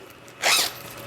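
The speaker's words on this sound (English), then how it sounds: "So back the zippers up" A short zip as a zipper is pulled back along a roll of zipper tape for sewing, one quick rasping stroke heard close and alone.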